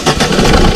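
A Ford EcoSport diesel engine with an oil consumption problem cranks and catches right after an engine flush additive is poured in, giving a short, loud, rough burst of close engine noise with no talking.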